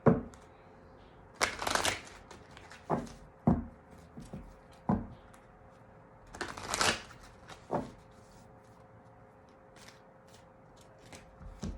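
Oracle cards being shuffled by hand, repeated crisp riffling bursts in quick, uneven clusters, close and fairly quiet in an otherwise still room.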